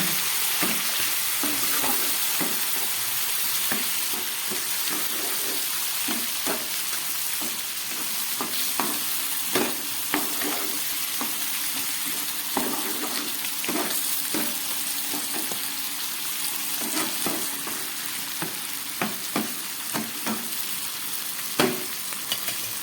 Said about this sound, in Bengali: এবার এই বেটে রাখা সর্ষে, পোস্ত আর কাঁচা লঙ্কাটা আমি দিয়ে দিলাম।